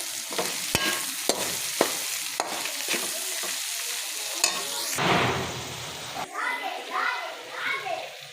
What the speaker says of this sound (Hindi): ये चले गए मसाले, इसे करेंगे हम अच्छे से मिक्स।